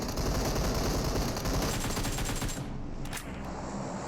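Gunfire in the video game PUBG Mobile: a loud, dense stream of rapid automatic shots fills most of the moment, then breaks off into a couple of sharp final cracks.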